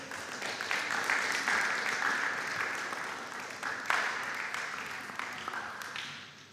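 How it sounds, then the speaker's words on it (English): Audience applause for a junior high school team at a school quiz competition, steady dense clapping that holds fairly loud throughout and tapers slightly near the end, with no voices over it. "Let's give them a round of applause"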